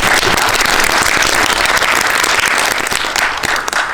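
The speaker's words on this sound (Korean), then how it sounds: "큰 박수 부탁드리겠습니다." Audience at a Korean movie screening and talk event at a GV hall applauds, dense continuous clapping holding loud and steady throughout with no voices on top.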